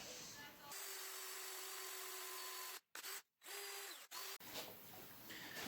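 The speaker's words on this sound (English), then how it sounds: "Now I'm going to drill another hole further down here to put another piece of paracord handle." A power drill bores a hole through a wooden hiking stick, giving a loud, steady whirring drone that breaks off briefly a few times before running on.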